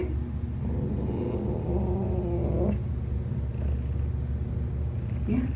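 A cat sits in a shelter carrier and meows in a long drawn-out cry over a steady low rumble, faint and mid-distance.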